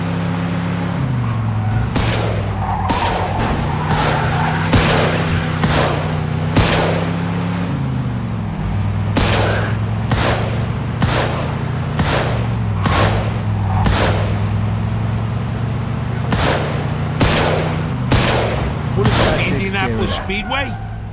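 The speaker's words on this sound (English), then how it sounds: "Got some nut job here shooting a gun." Repeated gunshots in Mafia II: Definitive Edition, sharp loud cracks spaced roughly every second or so across the whole stretch over a steady low engine hum, with voices talking in the background.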